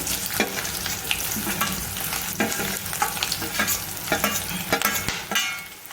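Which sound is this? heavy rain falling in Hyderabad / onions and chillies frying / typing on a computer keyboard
onions and chillies frying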